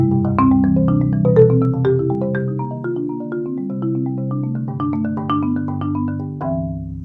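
A piece on a pitched percussion instrument, likely marimba, playing an arpeggiated chord progression in steady rolling notes, sustained low tones under a bright upper line, heard alone without talk.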